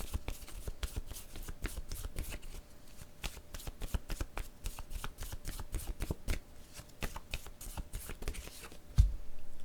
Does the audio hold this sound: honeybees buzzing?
no